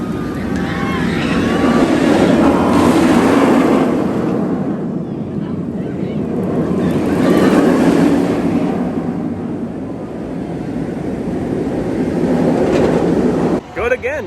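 B&M floorless roller coaster Rougarou running on its track at an amusement park, a rumbling roar that swells and fades twice as trains pass, with a brief voice near the end.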